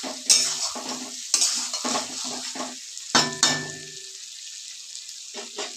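Potatoes and pointed gourd are stir-fried in a spiced pan for a rohu fish curry. A spatula clanks and scrapes against the pan in several distinct bursts over a soft sizzle, close and fairly loud, with no voices.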